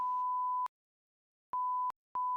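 Electronic beeps at one steady pitch: a long tone, then after a pause two shorter beeps with a brief gap, clean and alone.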